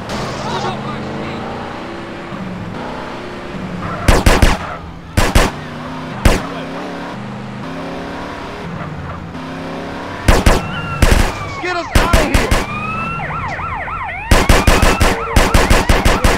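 Repeated bursts of rapid automatic gunfire from a drive-by in GTA San Andreas with a BMW M5 E60 car mod, loud and close, cutting in over a running car engine and a wailing police siren, with talk between volleys.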